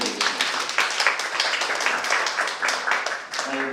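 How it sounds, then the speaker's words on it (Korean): An audience at a study-meeting lecture gives a warm round of applause for a speaker, with dense, steady clapping that runs at even strength throughout. "다시 뜨거운 박수 한번 부탁드리겠습니다"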